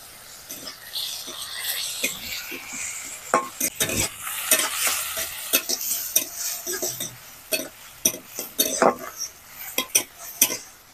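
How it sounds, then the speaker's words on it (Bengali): Chopped tomato and capsicum fry in a pan with a soft sizzle while a metal spoon scrapes and clinks against it in quick, irregular stirring strokes, close up. "টমেটো আর ক্যাপসিকামটাকে একটুখানি ভেজে নিয়েছি।"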